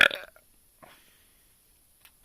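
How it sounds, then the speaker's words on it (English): A man lets out a loud, close burp right at the start after drinking Zlaty Bazant lager, followed by a faint rumbling afterburp and then near silence. "That's the second burp"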